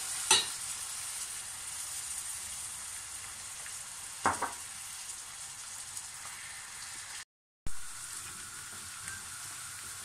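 Onions frying in vegetable oil in a pan for a dolma filling of stuffed peppers, eggplant and zucchini: a steady, close sizzling hiss throughout, with a couple of sharp spoon clicks from stirring and no talking.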